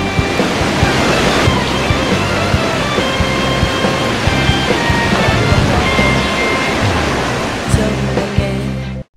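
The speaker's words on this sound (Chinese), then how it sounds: "竹崎观音瀑布以其从山崖上倾泻而下的景观" Guanyin Waterfall in Zhuqi, Chiayi, cascades down a cliff as a steady, loud, broadband roar of falling water that holds evenly throughout, with faint tonal sounds layered underneath.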